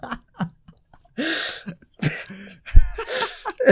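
A sick person coughing several times in short bursts, close and fairly loud, with throaty rasps between the coughs.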